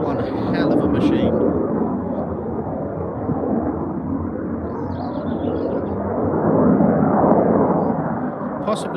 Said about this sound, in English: this is my favourite aircraft, the F-35A. Lockheed Martin designed one hell of a machine